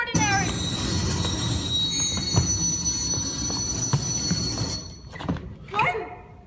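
Crosstown F subway train braking to a halt, steel wheels squealing in a loud sustained high whine over rumbling rail noise, with thunks near the end and a final brief screech as it stops.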